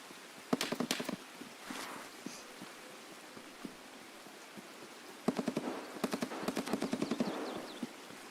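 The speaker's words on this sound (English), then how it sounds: "There's some more shots." Bursts of gunfire from Escape from Tarkov, two rapid volleys of sharp automatic shots separated by a quieter stretch, fairly distant and without speech.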